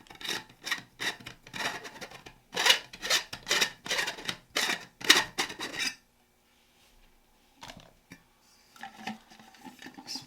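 Packaging for a Fluval Bio CO2 250L kit is opened with a rapid series of crinkling, rustling plastic and cardboard scrapes for about six seconds, then a pause with a few faint handling sounds.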